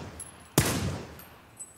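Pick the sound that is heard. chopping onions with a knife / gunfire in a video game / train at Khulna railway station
gunfire in a video game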